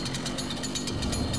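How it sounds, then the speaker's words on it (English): A chainsaw from the DOOM video game, a loud rattling buzz with rapid rhythmic chugging pulses, close and continuous for a brief burst. "I have a chainsaw."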